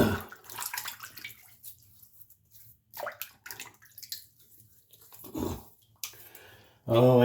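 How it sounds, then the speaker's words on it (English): Water splashes intermittently as a face is wetted before a razor shave at a sink, with soft, close sloshes and drips broken by brief pauses, ending in a louder splash. "Let me get my face wet."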